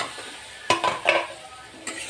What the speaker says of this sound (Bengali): সাজনাটা দিয়ে একটু নেড়ে চেড়ে কষিয়ে নিব।